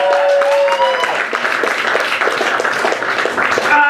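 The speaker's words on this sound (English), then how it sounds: "Give a big round of applause for Carson, Creecy the Fourth, ladies and gentlemen." Comedy club audience applauding a comedian, steady dense clapping throughout with voices and cheers mixed in, loud and close.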